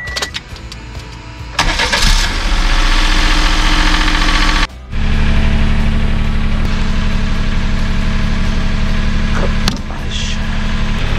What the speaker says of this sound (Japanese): とりあえずね、エンジンね、30分ぐらいかけていきます。